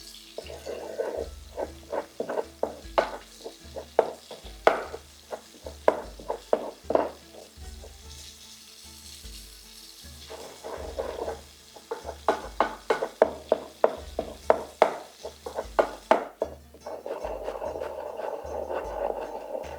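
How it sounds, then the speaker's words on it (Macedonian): Garlic puree hand-mixed with oil for corbadzisko, a rhythmic series of wet, squelching pounding strokes in bursts, close and moderately loud, with pauses between rounds. "Мора да се спои пирето од лук со маслото."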